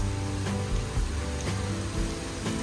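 Heavy rain drums outside an Avante Scania K360 bus at a terminal, a steady wash of downpour on the vehicle with faint low engine hum underneath and no talking.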